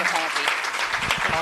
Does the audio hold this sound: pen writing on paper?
no